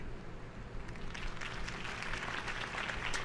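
Crowd applause at a campaign rally in the Batman Telltale video game, a steady wash of clapping that builds slightly and holds at moderate loudness throughout.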